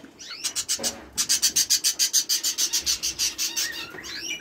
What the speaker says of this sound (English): These are two male budgies, as you can see.